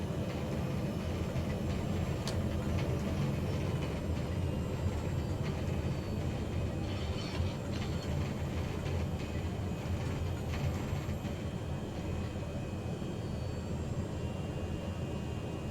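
Small propeller airplane taxiing and taking off from a small airport beside Lake Tanganyika, a steady loud engine drone with broadband rumble holding constant throughout, no talking.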